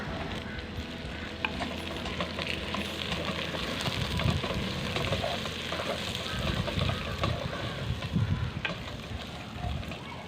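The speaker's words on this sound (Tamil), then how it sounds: "இப்போ நம்ம தக்காளியும் சேர்த்து வதக்கிக்கலாம்" Green chillies and tomatoes sautéing in a pan for a clay-pot paneer biryani, giving a continuous loud sizzle with scattered crackles and stirring noises throughout.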